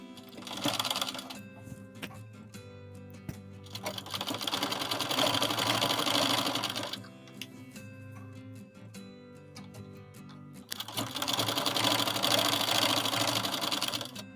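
A domestic sewing machine stitches piping for a handmade baby cap, running in two long bursts with a short pause between, steady rattling drone close by with no talk.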